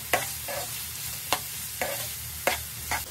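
Thinly sliced onions, chillies, salt and turmeric frying in oil in a pan, a soft steady sizzle broken by several distinct scrapes of a spatula stirring, no one speaking.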